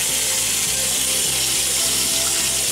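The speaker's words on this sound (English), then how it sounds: "Let me just wash my face." Tap water running steadily into a sink for face washing, a continuous close splashing hiss with a faint rhythmic mechanical ticking underneath and no talk.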